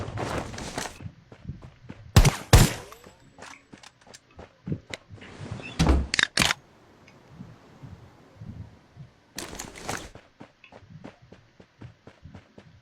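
Gunfire in a shooting video game: scattered sharp shots and short bursts, some clustered near the start, middle and toward the end, with quieter footsteps and clicks between them and no talk.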